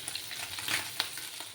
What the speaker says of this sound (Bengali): মাছগুলো ভালো করে ফ্রাই হয়ে যাক